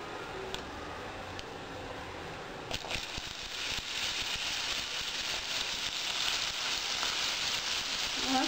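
Chickpeas dropped into hot ghee with cumin seeds, giving a steady broadband sizzle that swells louder partway through and carries on continuously, close up, with no talk over it.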